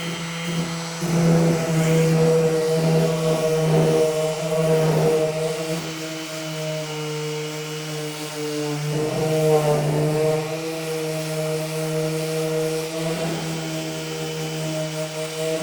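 A power sander grinds steadily across a colorful painted sculpture, a loud continuous motor whine with a strong low hum, rising and easing slightly as pressure shifts, with no talking.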